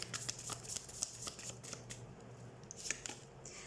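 Tarot cards being shuffled close by, a quiet series of quick riffling flicks and soft papery snaps in uneven bursts.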